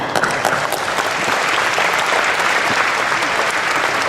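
Dense, steady applause from a luncheon audience greeting offensive coordinator Tom Herman at a spring kickoff event, loud and continuous throughout with many hands clapping at once.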